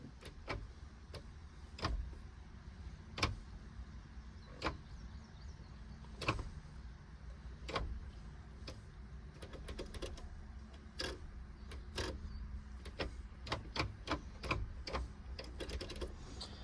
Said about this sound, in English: I'll show you kind of shifts all the way through 6th gear so you can hear it without me talking